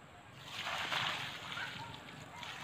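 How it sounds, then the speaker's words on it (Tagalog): Water poured onto rabbit manure used as fertilizer for grapevines, a steady sloshing, splashing wash that swells in the middle and continues close by for a few seconds. "So lalagyan natin ng ano, tubig. Lagyan natin ng tubig"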